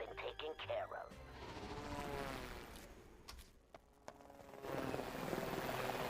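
A helicopter in an animated show drones with a buzzy, steady rotor sound that rises and holds, mixed with voices talking over it and brief sharp hits, then swells again loudly near the end.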